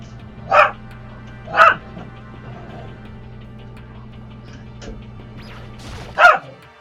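A dog gives three short, sharp barks indoors, two close together near the start and one more after a pause, over a steady low hum.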